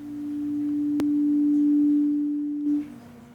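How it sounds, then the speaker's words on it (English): A pure sine tone shaped by an envelope in Max sustains steadily for nearly three seconds, swelling gently and then cutting off, with a brief click near the start and no voices. "Let's go to the sine wave just for fun"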